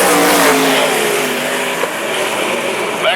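Sprint cars at Mac's Speedway roar past at full throttle out of a corner, a loud, continuous, raspy engine howl that holds steady and stays close throughout.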